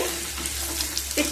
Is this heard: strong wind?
no